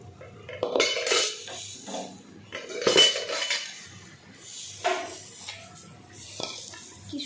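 Pot lid and metal pan clanking and scraping as a pan of chicken liver and onion chorchori is covered and lifted off the stove, several sharp clinks at irregular intervals, close and fairly loud.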